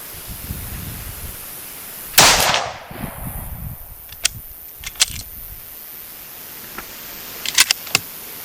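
CZ-527 rifle in 7.62x39 firing a single sharp shot with a decaying echo outdoors, followed by several small metallic clicks and clinks of handling.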